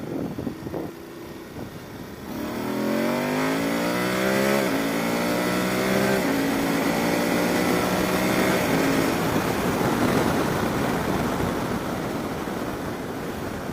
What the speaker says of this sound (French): deuxième, et on se met à 4000 tours et gaz